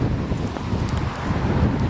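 Strong storm wind buffets a handheld camera during a hurricane in Moscow, a steady loud roaring rumble with gusty low-end thumping across the whole stretch, no talk.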